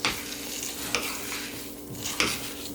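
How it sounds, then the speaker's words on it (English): Breadcrumbs being stirred into garlicky turkey stuffing in a pan, a soft crackling sizzle under two sharper scraping strokes of a spoon, close and steady, with no talk. "Next step is to add the breadcrumbs. And stir that in really well."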